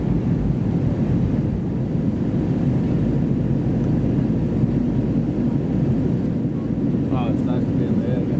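Cabin noise aboard an SAS Airbus A320neo in economy class after takeoff, a loud steady engine and airflow roar throughout with a brief faint chime near the end.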